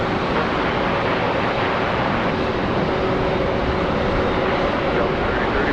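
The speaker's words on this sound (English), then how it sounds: "Another Frontier on the way out. It's an A321." A Frontier Airbus A321 departing Charlotte Douglas airport, a loud, constant jet roar that fills the whole stretch without a break.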